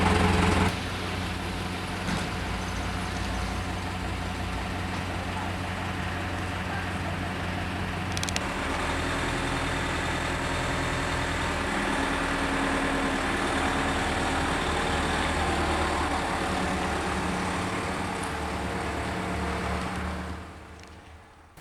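A parked ambulance runs at a steady idle for a long stretch, a low constant engine hum with faint mechanical clatter, fairly close and alone before trailing off at the end.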